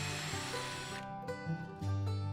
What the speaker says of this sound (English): secure it to the frame with 2-inch No. 6 screws